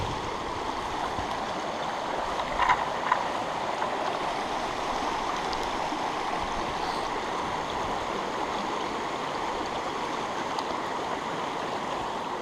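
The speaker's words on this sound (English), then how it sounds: "Look how crystal clear the rivers are" A clear mountain river high up near the tree line flows steadily, a constant broadband rush of water with no pauses, close and fairly loud throughout.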